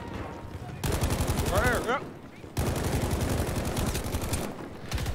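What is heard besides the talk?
gunfire in the video game Battlefield V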